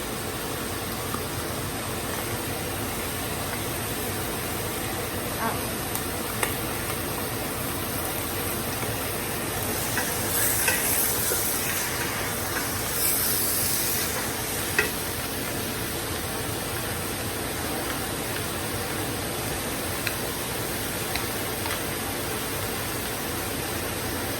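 Chicken browning in a pan on high heat gives a steady, loud, broadband sizzle that holds almost unchanged throughout, with occasional faint clicks and scrapes on top.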